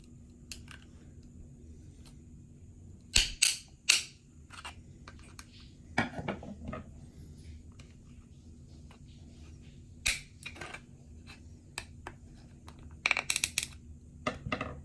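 A screwdriver pries at a plastic PSA graded card slab, making sharp scattered clicks and cracking snaps in small clusters, close and fairly loud over a quiet background.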